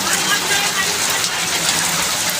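Heavy rain pours down steadily, a dense, loud hiss of drops striking surfaces with no pauses.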